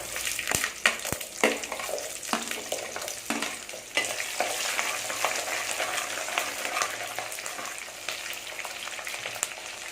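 Whole peeled shallots crackle and sizzle in hot oil for a dry fish curry with a steady spitting hiss, punctuated by occasional sharp pops and stirring clinks, close and continuous.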